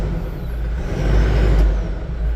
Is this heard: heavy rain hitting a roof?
no